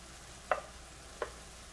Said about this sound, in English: I'm going to mix all this together